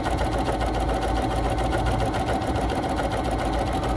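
A BERNINA 3 Series sewing machine runs steadily while stitching a small decorative tulip, its motor whirring and the needle tapping in a fast, even rhythm close by, with no voices.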